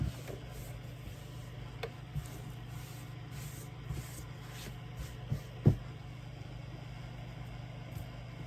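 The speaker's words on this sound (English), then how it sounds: "I'm going to keep just sewing" A sewing machine stitches fabric pieces for a Bargello Christmas tree skirt, a steady low motor hum running continuously throughout with a few faint clicks and taps over it.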